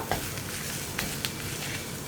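Spice powders frying in coconut oil inside a clay pot over a low flame, a steady soft sizzle with faint scraping from stirring and a few small ticks, no voices.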